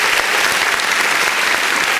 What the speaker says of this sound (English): Round of applause for Calvin Martyr bagging them leaves.